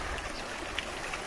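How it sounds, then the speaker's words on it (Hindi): A mountain waterfall in the meadows of Gabin Jabba, Swat, Pakistan, heard as a soft, steady wash of flowing water with a brief splash. "पानी का झरना"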